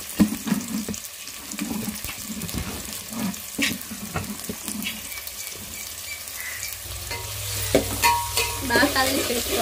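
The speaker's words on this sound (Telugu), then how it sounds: "ఆయిల్ బాగా వేడిన తర్వాత ఉల్లిపాయ, పచ్చిమిర్చి, టమాటాలు వేసుకొని బాగా ఫ్రై చేసుకోవాలి." Onion, green chili and tomatoes hit hot oil in a pan, giving a close sizzle broken by repeated clattering stirs and scrapes, with a watery, tap-like rush building toward the end.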